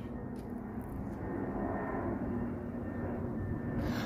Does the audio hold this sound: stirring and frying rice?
no